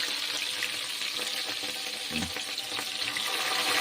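Green chillies frying in hot mustard oil with a continuous broadband sizzle, loud and steady throughout, with a brief low clunk partway through.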